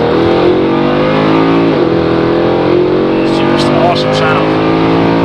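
A Mercedes C63 AMG with the P30 Performance pack idles close by. Its V8 gives a loud, steady, rumbling burble with a slight dip in pitch partway through, and faint chatter rises briefly near the end.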